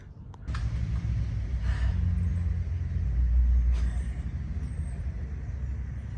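A vehicle lift raises a C6 car during a transaxle rebuild in a garage, giving a loud, steady motor hum and low rumble that runs continuously, swelling slightly midway, with no talk.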